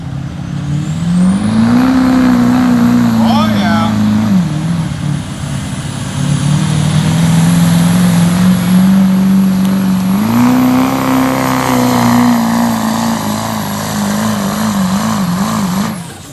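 A 600+ horsepower Duramax diesel pickup strains under load at a truck pull, its engine droning loud and close at high revs, the pitch dipping and climbing again as it pulls, with a faint whine over the roar.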